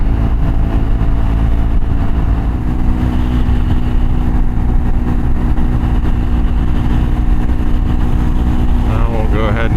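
A Triumph Scrambler 400X fitted with a 15-tooth sprocket drones steadily at just over 6,000 RPM at highway speed, a loud, continuous engine hum mixed with rushing wind that never lets up.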